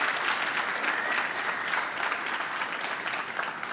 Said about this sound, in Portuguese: Gostaria que todos dessem uma salva de palmas para ele.